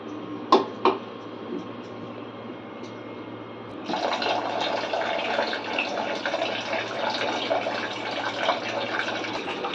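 Water pours from a tap into a pot of rice for washing, starting after a couple of faint knocks and then running steadily up close as a loud, continuous splash.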